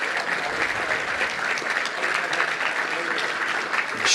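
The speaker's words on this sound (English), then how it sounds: "Let's give her a round of applause." Dense, sustained applause from a crowd at a club luncheon, a loud continuous roar of clapping with no break.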